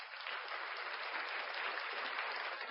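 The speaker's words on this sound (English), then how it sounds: "Round of applause for Ariana Grande for that" Dense, even applause for Ariana Grande's Best Pop win during a podcast's awards rundown, a steady hiss of many hands that sounds canned and fairly faint, with no voices over it.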